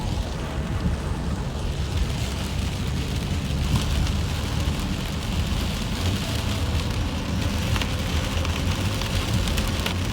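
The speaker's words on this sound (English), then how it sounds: "this is what it sure feels like right now is a hard rain" Heavy rain pours at night over cropland, a dense, steady, loud hiss of drops with a low rumbling undertone that continues throughout, with no voices.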